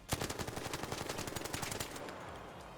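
The level 1 Stitcher gun in the video game Arc Raiders fires a rapid automatic burst of about twenty shots over two seconds, then a short fading tail.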